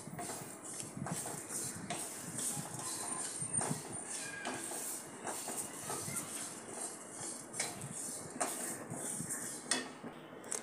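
Desiccated coconut roasting in a pan, with continuous clinking and scraping of a spoon against metal, busy irregular rattles close by throughout.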